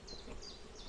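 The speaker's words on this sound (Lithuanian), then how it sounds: "Ir čia atėjo bičių darbininkių tik tiek, kiek susirinko." Worker honey bees buzzing around a two-week-old colony taken out of a wall, a steady close drone with a few higher passes as single bees fly near.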